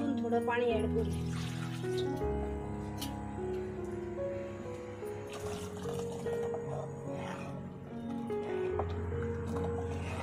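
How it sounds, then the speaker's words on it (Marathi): Water is poured into a pan of Karli (silver bar) fish curry with ground masala paste, giving a soft, steady liquid splash under a bed of music with talk throughout. "अजून थोडं पाणी ऍड करूया।"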